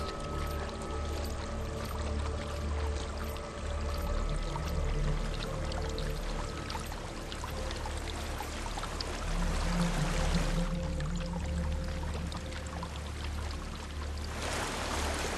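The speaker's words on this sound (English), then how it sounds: "There's a waterfall." A waterfall in the video game Hellblade: Senua's Sacrifice gives a steady, close rushing and pouring wash of water that carries on throughout, with no speech.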